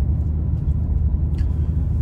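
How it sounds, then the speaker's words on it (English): A BMW M2 driven on wet roads, with a low, constant engine and road rumble up close, plus a faint splash-like hiss partway through, no speech. "I've never been happier to drive this car in the rain"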